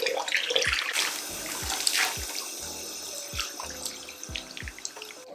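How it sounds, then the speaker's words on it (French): Water running and splashing while a hair mask is rinsed out, a steady tap stream with intermittent splashes, drips and light knocks nearby. "je dois rincer le masque là parce qu'il est temps"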